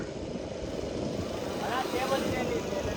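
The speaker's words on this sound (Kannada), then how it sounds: "ಡ್ರೋನ್ ಹಾರಿಸುವ ಸಮಯ" A drone lifts off outdoors near a boat at Honnavar during a pre-wedding shoot, its steady whirring drone rising slightly over the clip, with people talking over it.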